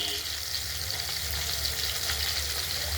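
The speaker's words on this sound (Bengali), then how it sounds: "আমরা তেলাপিয়া মাছকে কেটে কুটে পরিষ্কার করে নুন হলুদ দিয়ে মেখে তেল গরম হয়ে গেছে বসিয়ে দিয়েছি।" Cleaned tilapia pieces rubbed with salt and turmeric frying in hot oil, giving a steady, dense, close sizzle that continues without a break and without voices.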